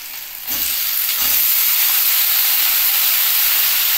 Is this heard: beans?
yes